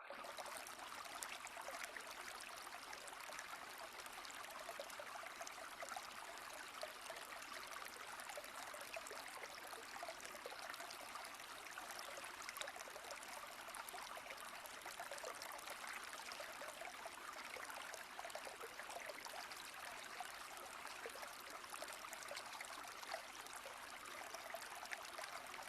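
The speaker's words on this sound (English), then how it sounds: "Let the sounds of the water breaking over the rocks take you to" Water breaking over rocks in a stream, a steady soft rushing and trickling wash that holds even throughout without pauses, faint and somewhat distant, with no voices.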